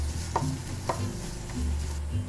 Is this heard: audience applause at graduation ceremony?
no